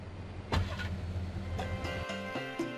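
Car engine in the video game Grand Theft Auto: Vice City starts and idles at moderate level, with a couple of sharp mechanical clicks and a brief rise in engine tone near the end.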